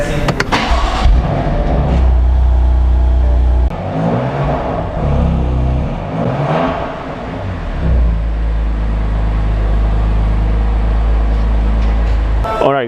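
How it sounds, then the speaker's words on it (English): A 2020 BMW M2 Competition with a DCT gearbox fires up and revs, its exhaust giving a loud, deep, steady drone with several rising and falling swells, close to the car. "You're gonna fire this engine up and hear how the fabulous BMW"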